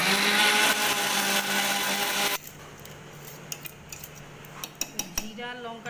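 An electric mixer grinder whirs loudly at high speed as spices and water are blended into a paste, then cuts out, leaving faint clicks and knocks from the jar.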